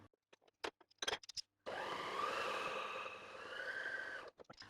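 A kitchen mixer machine whirs steadily for a couple of seconds while mixing biscuit dough with egg, a close, droning motor hum preceded and followed by a few short knocks and clatters.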